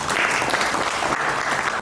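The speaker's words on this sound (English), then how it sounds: "Let's welcome with a big round of applause." Sustained applause from an audience welcoming a speaker at a formal event, a dense, steady wash of many hands clapping that fills the whole moment at an even level without pause.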